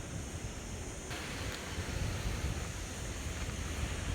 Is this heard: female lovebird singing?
no